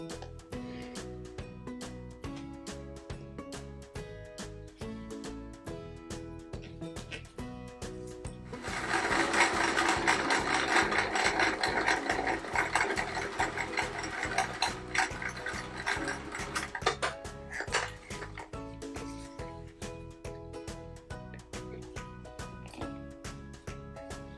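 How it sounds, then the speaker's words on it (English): A sewing machine stitching quilt fabric in a rapid, steady mechanical rhythm, growing louder and busier midway before settling back to its even clatter. "We're all set up with the sewing machine"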